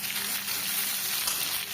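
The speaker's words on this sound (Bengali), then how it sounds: "আমি এখানে জিরে তেজপাতা ফোড়ন দিয়ে আলু দিয়ে দিয়েছি" Potatoes fry in hot oil tempered with cumin seeds and bay leaf, a steady, close, dense sizzle that crackles evenly throughout with no voices.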